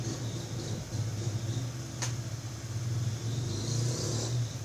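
A motorcycle passes outside, a steady mid-pitched engine drone that swells and builds over several seconds and holds as a continuous background roar in a home recording space.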